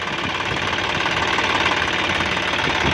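A John Deere 5065E tractor's small three-cylinder turbo diesel runs steadily up close, a loud, continuous knocking rumble with even rhythm throughout.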